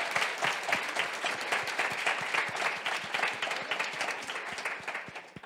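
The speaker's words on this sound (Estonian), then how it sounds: "teeme suure aplausi neile, kes käisid rääkimas infotunnist" Steady applause from an audience at a nature and health sciences institute info session, dense overlapping clapping that holds evenly for several seconds, then fades slightly at the end.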